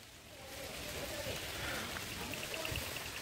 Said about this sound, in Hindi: ये नहीं सीधी बारिश नहीं गिर रही, टक्के गिर रहे हैं पेड़ पे से